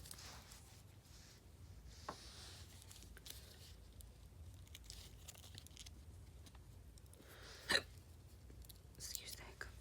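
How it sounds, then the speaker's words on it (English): Quiet room tone with a few faint, sharp hiccups from one person, the clearest one around the middle and a couple more near the end. "Excuse the hiccups."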